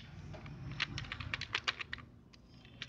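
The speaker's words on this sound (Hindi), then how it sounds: "इसमें आप टाइप करिए कुछ भी" Keys are tapped on a computer keyboard while typing Punjabi text, a quiet run of irregular clicks close by over soft background noise, with no talking.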